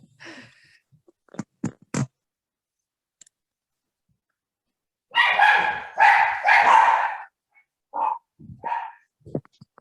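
Several dogs barking in sharp bursts, with a few isolated barks followed by a run of loud, close, overlapping barking and scattered yips, somewhat muffled as if heard from indoors.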